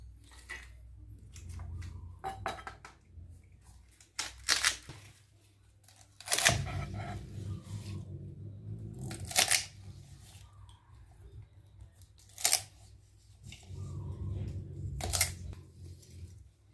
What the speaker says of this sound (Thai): เราจะหั่นดอกหอมก่อน